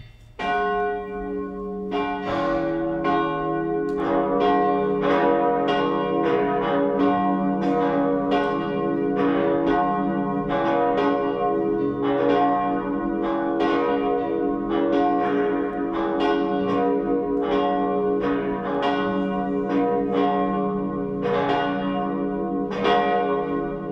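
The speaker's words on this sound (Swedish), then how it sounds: "Låt oss nu lyssna till klockringningen." Cathedral church bells peal continuously after a Sunday high mass, several tones overlapping in a steady, resonant ringing with no voices.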